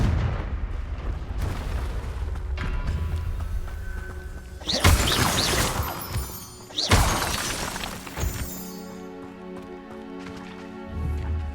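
A Confringo fire spell from Hogwarts Legacy bursts in two loud, explosive blasts with shattering crackle, surrounded by rumbling game ambience and smaller impacts.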